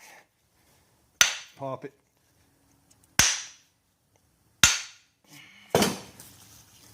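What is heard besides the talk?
hammer knocking loose a truck front axle shaft U-joint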